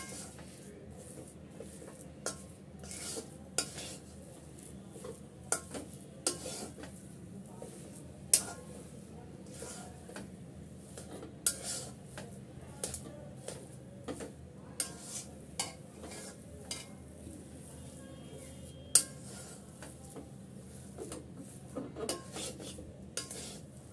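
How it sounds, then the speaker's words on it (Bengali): A thick mixture of dates and date-palm jaggery is stirred in a pan for laddu, with repeated sharp scrapes and taps of a utensil against the metal over a faint low hiss, close and steady. "এখানে আমি 2 মিনিট ধরে নাড়াচাড়া করে ভালো করে মিক্স করে নিয়েছি।"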